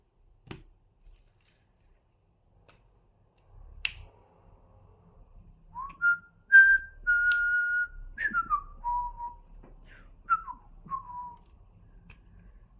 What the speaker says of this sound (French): Je sais pas ce que je siffle, hein,